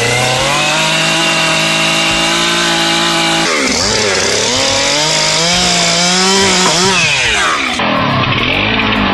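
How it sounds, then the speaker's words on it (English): Chainsaw cutting through a fallen tree, a loud close engine whining at steady pitch, then bogging down and surging as the chain bites into the wood, with varying revs until the end. "only a powerful chainsaw can handle the job effectively."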